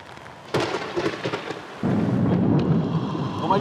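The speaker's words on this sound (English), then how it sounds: "And it's raining some more" Rain falls steadily outdoors while thunder cracks and rumbles nearby, a sharp boom followed by a heavier, sustained downpour hiss that fills the space and grows stronger toward the end.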